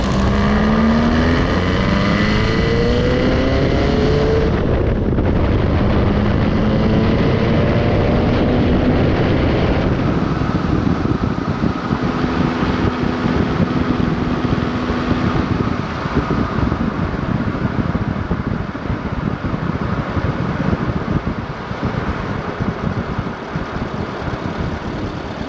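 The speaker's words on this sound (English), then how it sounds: "So we've been driving the Sandrail now for about 15-20 minutes." Air-cooled 1200cc four-cylinder boxer engine of a 1959 VW Sandrail out on a drive, a loud, steady, buzzing drone with rising and falling pitch at the start, continuous and close with wind rush over it.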